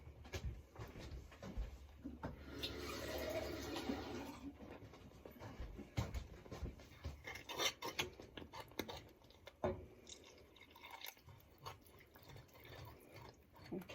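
Tap water runs briefly into a container for biscuit gravy in a home kitchen, a soft gushing stream followed by faint clinks, drips and cupboard knocks, all quiet and close.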